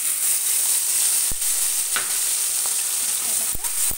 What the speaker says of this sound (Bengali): মশলাটা খুব সুন্দর ভাজা হয়ে যাচ্ছে